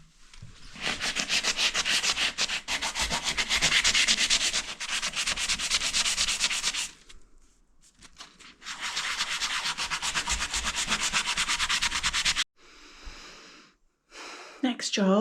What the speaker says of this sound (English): I've sanded all of this.